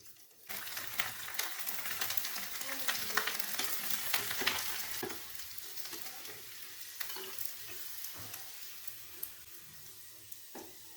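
Sago vadam deep-fries in hot oil, a dense bubbling crackle that starts abruptly and carries on for several seconds, with scattered clinks and scrapes from a utensil, close and steady and no one speaking.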